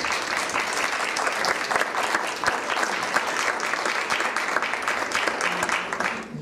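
An audience at an art collecting conference gives a strong, sustained round of applause, dense clapping holding steady before tapering slightly at the close.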